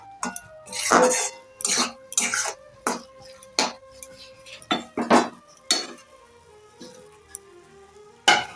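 A metal spoon stirs mashed bottle gourd peel in a pan over a low flame, giving a string of close, irregular clinks and scrapes with short pauses between strokes.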